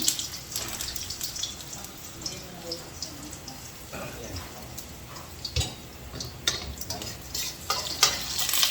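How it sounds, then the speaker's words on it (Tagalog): Beefsteak de Kapampangan frying in a pan sizzles and crackles steadily, with scraping stirs and clatters scattered throughout, close and moderately loud, with intermittent talk over it. "Luto tayo ng beef steak de Kapampangan."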